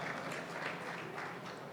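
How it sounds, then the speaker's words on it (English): An audience at a conference breakout session on LPG operational safety applauds, a faint, distant wash of steady clapping from many hands lasting under two seconds. "So a round of applause for that statement"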